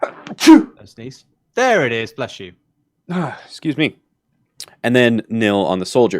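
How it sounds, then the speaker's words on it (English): A single sharp human sneeze bursts out near the start, loud and close, followed by a person speaking in short phrases with pauses. "And I'm going to sneeze."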